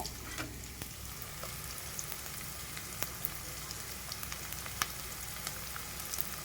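Mustard seeds and green chilies sizzle in hot oil with a soft, steady hiss and scattered sharp pops and crackles, faint and without talk.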